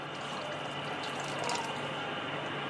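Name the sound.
water being poured into pot of pulao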